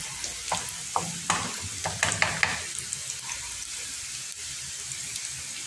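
Garlic fries in butter in a pan as the base for garlic buttered shrimp. Clinks and scrapes of stirring come early over a steady close sizzle that settles into an even hiss.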